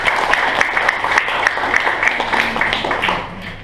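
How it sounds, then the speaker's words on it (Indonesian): An indoor audience at a book launch applauds steadily in a dense wash of many hands clapping, holding at an even level for several seconds before easing off slightly. "kita kasih aplaus untuk Mas Abdul Gopur"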